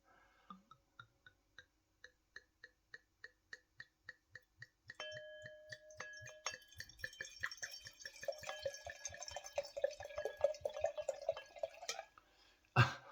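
Chianti red wine pours into a large glass, starting as slow, evenly spaced drips and building into a continuous gurgling trickle, close and clear with no talk over it.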